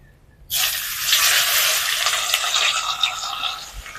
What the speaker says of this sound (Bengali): বাটিতে গরম তেলটা এবার ঢেলে দেব